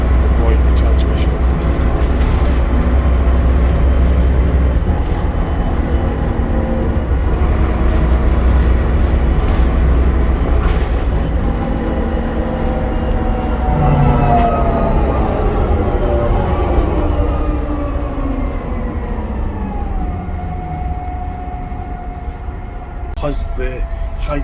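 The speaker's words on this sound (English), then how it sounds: "the high-pitched whine you hear now, is oil pump within the transmission that constantly runs" A Volvo Ailsa bus engine drones steadily in top gear while a high-pitched whine from the Voith transmission's oil pump rises and holds, and a voice talks over the noise.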